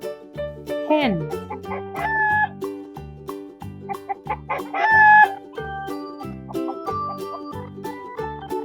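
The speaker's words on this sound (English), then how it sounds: "Hen." A hen in a children's farm-animal sound lesson gives a few short, rising squawking clucks over a steady bouncy music backing.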